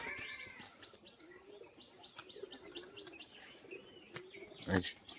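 Pigeons, a pair of male and female fancy birds, chirping and cooing faintly alongside other bird calls, with a sharp louder chirp near the end.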